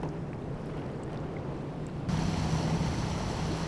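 A motorboat heads across Arctic water toward a tidewater glacier off Svalbard. Its engine drones steadily with wind and water wash, and the sound swells louder partway through.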